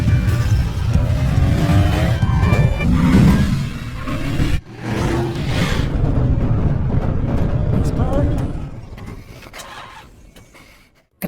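A car chase in a film with a hijacked car pursuing a jeep: roaring engines and rushing whooshes fill a loud, dense mix that fades out toward the end, with voices heard in the scene.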